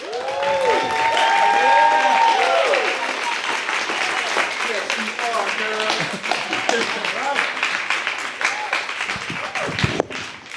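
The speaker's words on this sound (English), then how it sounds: "Give a big round of applause for Pamela, y'all." Audience applause and clapping from a crowd at a live performance event, steady and fairly loud across the whole stretch, with voices and cheering mixed in and what sounds like music or singing fading out at the start.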